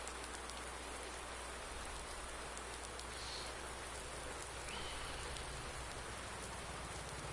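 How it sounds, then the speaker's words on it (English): Steady rain falls in a farming video game, a dense, even hiss of drops on surfaces running without a break throughout, close and constant, with no voices over it. "Going so fast the rain can't even touch me."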